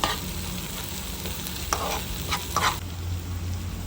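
Mixed vegetables with coriander-cumin powder and garam masala sauté in a pan for a mixed veg shaak, giving a constant close sizzle and a few brief scraping stirs against the pan, with no voices.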